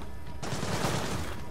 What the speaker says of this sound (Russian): Выстрелы!